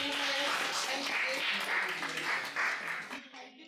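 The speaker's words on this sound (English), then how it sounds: "Give her a round of applause." Applause from an evening audience greeting a speaker at a community gathering, dense clapping with some voices mixed in, steady and fairly close before cutting off abruptly near the end.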